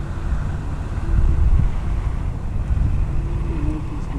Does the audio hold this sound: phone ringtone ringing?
no